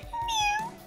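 A person imitating a cat's meow, one short, clear, rising-then-falling vocal mew up close, lasting under a second.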